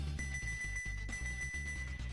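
A bright bell from the Goof Troop video game rings with a sustained metallic tone over chiptune-style game music, repeated in short pulses.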